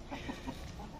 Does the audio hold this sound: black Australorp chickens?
yes